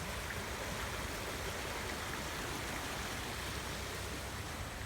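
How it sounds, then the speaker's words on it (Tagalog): Fast-flowing river current rushing steadily, a dense continuous roar of moving water close by with no talk. "Lumalim at saka ano no, bumilis yung agos."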